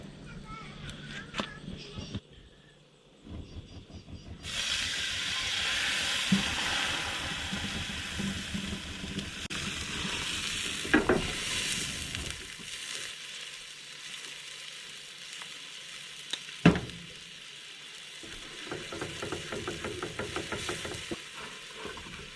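Food sizzles and fries in a pan on an outback camp stove beside Lake Argyle in Western Australia as gravy is started after the oil is poured off, a steady crackle with stirring scrapes and brief louder pops throughout.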